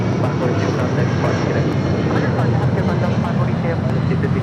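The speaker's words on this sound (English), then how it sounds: "That was Delta Airlines Flight 542 heading to Reagan National as 57-200 taken off here on the south side." A Delta Airlines 757-200 jet takes off from the south side of LAX, its engines making a loud, continuous rumbling roar while a person talks over it.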